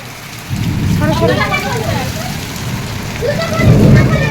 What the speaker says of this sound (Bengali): সেই বৃষ্টি সেই বৃষ্টি